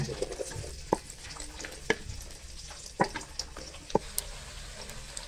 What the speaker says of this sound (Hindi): सबसे पहले हम प्याज को फ्राई करेंगे